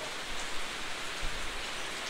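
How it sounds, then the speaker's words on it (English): Rain falls steadily in the Amazon jungle of Peru, a soft, even patter on surfaces with no voices over it. "Oh, I can feel the rain here."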